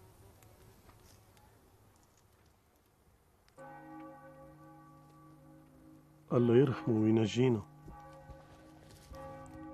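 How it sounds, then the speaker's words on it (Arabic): A church bell tolls in mourning for a young man's death, clear harmonic strikes ringing out and sustaining, with a louder cluster of strokes near the end, under faint background noise and a brief murmured voice. "سمعنا الجرس عن يدق حزن"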